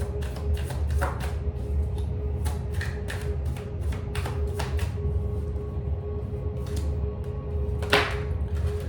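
Crisp riffling and tapping of tarot cards being shuffled by hand, repeated bursts close up over a steady low background hum.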